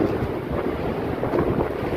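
Strong wind roars steadily across the microphone outdoors in a constant low rumble, with a faint watery wash beneath it.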